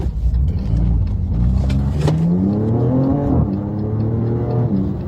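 A car accelerates and drives past close by, the engine note climbing in pitch through gear changes with a loud, sustained whir and no voices over it.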